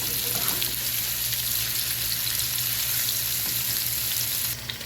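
Chicken pieces sizzle loudly and continuously in hot oil in a pan, with occasional scraping stirs as they are turned to brown on each side.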